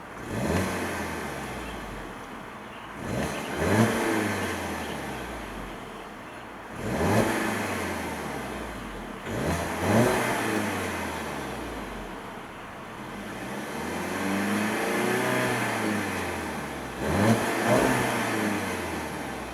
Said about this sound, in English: let's go ahead and see how she revs